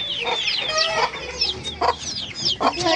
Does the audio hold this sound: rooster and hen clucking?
yes